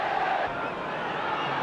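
A football match crowd of about 30,000 in an English stadium, a steady distant roar and chant of massed voices with no break.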